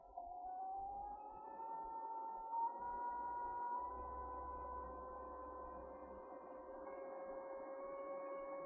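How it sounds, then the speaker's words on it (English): A boiler pump running on max, giving a faint steady tonal hum with a slowly rising whine over a low rumble, continuous and even throughout, no talking. "And obviously hear the pump come on."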